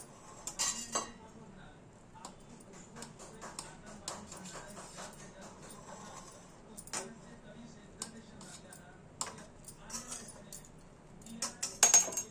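A knife cuts through soft dhokla in a metal tray, producing scattered clinks and scrapes against the tray with irregular pauses, while someone speaks quietly throughout.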